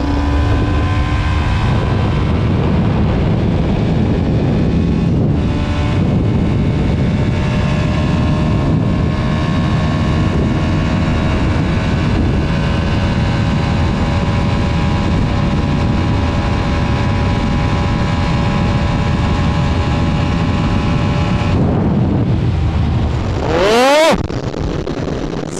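A loud Apache RR310 motorcycle engine roars steadily at top speed with heavy wind noise for about twenty seconds, then a brief rising whine near the end.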